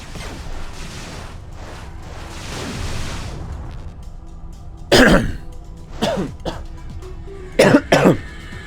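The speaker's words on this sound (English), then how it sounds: "Just having a coughing fit." A person has a coughing fit: several harsh, close coughs come in two clustered bursts after a stretch of quieter background noise.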